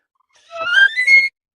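A tin whistle sounds in its high register, a short bright phrase of a few notes sliding upward, clear and alone with no talk.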